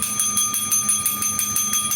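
A small bell rung repeatedly during a live selling stream, steady rapid ringing strokes with a sustained high metallic tone, loud and close with no talk.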